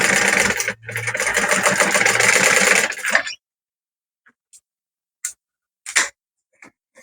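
Sewing machine stitching a fabric pocket bag, a close, loud steady whir running continuously for about three seconds, then stopping, followed by a few faint scattered clicks and handling sounds.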